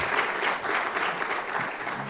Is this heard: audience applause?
yes